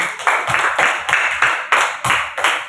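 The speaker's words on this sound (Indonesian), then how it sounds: "kita tepuk tangan untuk kelompok gotong royong" A group claps in unison in a classroom, a close, loud rhythmic pattern of about eight sharp bursts repeating at a steady pace.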